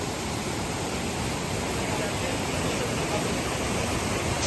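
Steady, loud broadband rush of a waterfall beside a log along the Carretera Austral in Chile, a constant close roar with no breaks.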